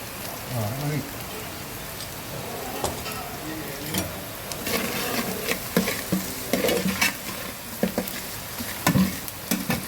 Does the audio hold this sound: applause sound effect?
no